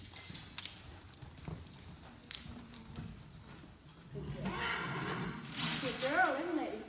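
A young filly being started under saddle trots while her hooves thud steadily, then lets out a clear whinny near the end, with a handler's voice under the hoofbeats.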